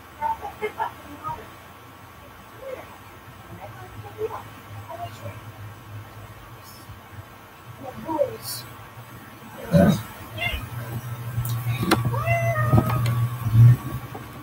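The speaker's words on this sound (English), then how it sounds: "this is my cat" A house cat meows a few times, short calls rising over quiet room noise, with a person talking nearby and a low hum running underneath.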